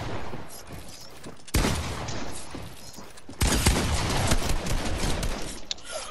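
Gunfire in the video game Fortnite, including an assault rifle, comes as dense bursts of shots that start abruptly and fill the whole stretch, loudest in two sustained barrages near and in front.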